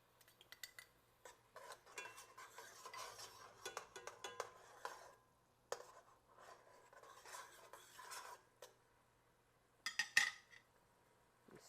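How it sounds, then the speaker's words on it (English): Metal tongs scrape the bottom of a pan holding a simmering wine and parsley sauce for shrimp scampi, giving bursts of gritty scratching and clinking with short pauses and a faint sizzle, close and fairly quiet. "I'm scratching up my pan using that tongs"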